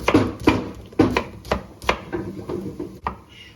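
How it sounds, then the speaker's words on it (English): A knife chops courgette, swede, carrot and onion in a steady run of sharp strikes, about five crisp, evenly spaced cuts followed by softer, lighter ones, close up with no talking. "I'm just going to chop it up however I want"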